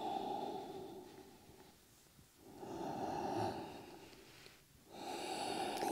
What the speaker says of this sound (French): Encore quelques belles respirations profondes ici.